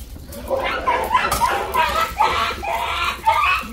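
Dogs bark and yip repeatedly in short bursts, fairly close and loud, mixed with people talking and children's voices nearby.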